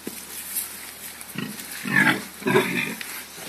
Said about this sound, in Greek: Τούτον το γουρούνο δάμε.